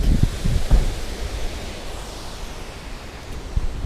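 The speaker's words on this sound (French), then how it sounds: "Cascade du Bourréon." Cascade du Bourréon, a mountain waterfall in the Gordolasque valley of the Mercantour, gives a continuous hissing roar from a short distance, with a few low gusty thumps of wind near the start.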